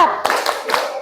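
A group claps a short rhythmic chant clap, with a few sharp claps close together alongside voices.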